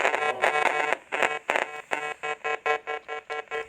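An RF meter crackles and buzzes as a nearby cell phone comes out of airplane mode and reconnects to a cell tower, giving loud rhythmic bursts that settle into an even pulsing pattern, with no talking.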